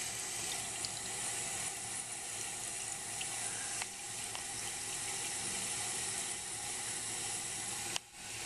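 Water steadily hisses into the tank of a 2000 Briggs Classic Vacuity toilet as it slowly refills, a continuous close rushing that ends with a sudden click and drop.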